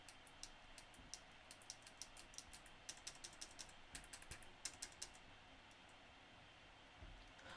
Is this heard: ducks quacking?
no